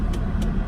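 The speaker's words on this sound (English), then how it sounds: "The only way I can do this review is while driving with the air conditioning on" Steady low rumble of a car being driven with the air conditioning running, a constant engine and road drone with faint hiss, close and even throughout.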